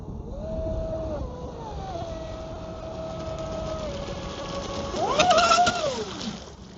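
A ProBoat SonicWake 36-inch RC boat runs on water, its electric motor whining steadily with pitch glides as the throttle changes, then rising sharply as it spins around with splashing, at moderate distance, no talk.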